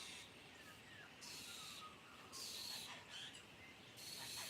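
Faint bird calls at a roadside, soft chirps and twittering at a distance over a steady hiss of ambient outdoor noise.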